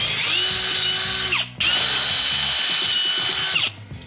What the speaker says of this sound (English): So let's get the drill here.